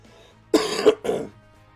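One close, throaty cough-like throat clearing in two harsh bursts, heard alone in a quiet room.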